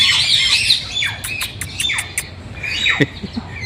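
An African parrot squawks at a park zoo, a few harsh, sliding calls standing out close by over a busy background of other bird chirps and tweets.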